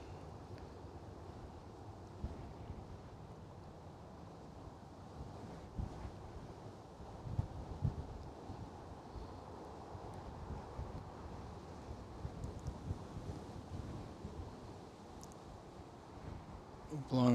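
Low, rumbling wind buffets a microphone outdoors at Manchester Airport, a steady muffled roar with occasional louder gusts and a sharper thump at the very end.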